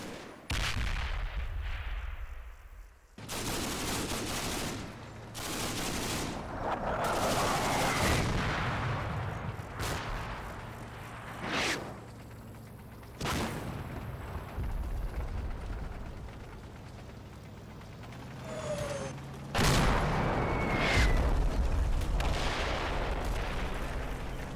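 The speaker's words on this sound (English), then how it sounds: "as my own artillery starts to fall" Artillery shells land in the Combat Mission game during the Odon Bridges battle of Operation Epsom. A series of sharp, loud blasts and booms arrive irregularly, with rumbling decay and quieter gaps between the impacts.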